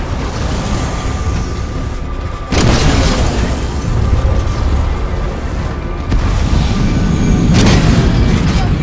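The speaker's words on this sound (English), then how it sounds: "Sector 5 Bravo. Detonating charges." Detonating charges go off in the video game Titanfall 2: heavy, continuous booming blasts with deep rumble, surging louder at two points and staying loud throughout, with no speech.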